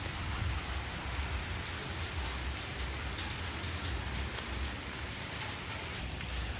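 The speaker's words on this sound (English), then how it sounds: "It's been raining on and off all day." Steady, dense rain hisses evenly throughout, a continuous broadband wash with a low rumble beneath and no voices.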